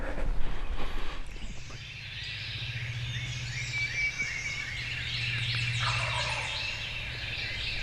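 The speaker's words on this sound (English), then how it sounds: "That turkey ain't far at all." A wild turkey gobbles nearby during a Mississippi turkey hunt, its rattling calls rolling on repeatedly and loudly over a steady low background hum, with smaller birds chirping faintly.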